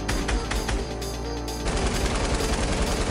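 Rapid gunfire in the Fortnite video game crackles in dense bursts, loud and close, blending into continuous chaotic game noise with no talking.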